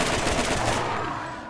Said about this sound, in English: Last shot, and bang!